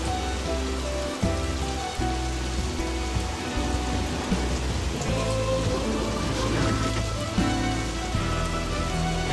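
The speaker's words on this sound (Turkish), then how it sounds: "Yağmurun sesini duy." Heavy rain drums continuously on a surface at close range, the hiss and spatter constant, with occasional low thuds rising beneath the downpour.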